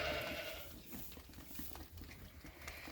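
A Dorset lamb bleats on a sheep farm during lambing season, a few soft, fairly distant calls over a rustling barn background with light shuffling and patter.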